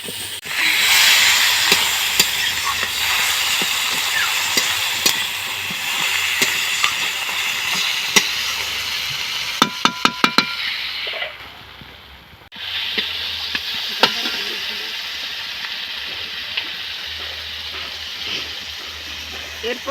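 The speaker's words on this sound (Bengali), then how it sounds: "টমেটো কুচিগুলো দিয়ে দাও।" Chopped tomatoes go into a pan of frying onions: a loud steady sizzle and hiss, a sudden quieter gap, then the sizzling goes on along with clinks and stirring.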